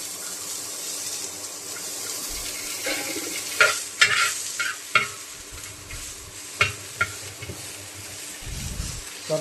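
Onion frying with mustard seeds in a pan for a low-oil paneer recipe crackles and sizzles steadily, broken by several scraping stirs and clanks of a spoon, close and moderately loud, with no voices.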